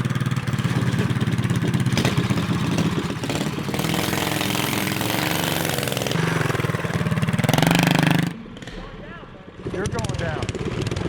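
Small Briggs & Stratton engine on a vintage junkyard-built blue mini bike, running loud and steady with a rough buzzing idle and revs for about eight seconds before cutting off, followed by quieter sound.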